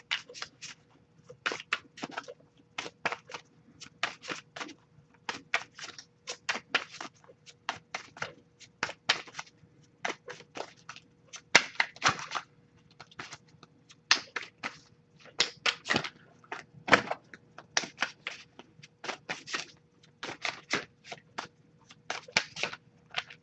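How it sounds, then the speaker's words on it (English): Crisp, irregular shuffling of tarot cards with rapid riffling bursts and soft slaps, close and continuous with brief pauses, no talking. "Shuffle for a bit here"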